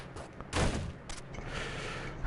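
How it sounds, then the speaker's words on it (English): Retro-style shotgun blasts in the roguelite game Downwell, two short punchy bursts a half-second apart over a low steady game backdrop. "Let's get the shotgun back"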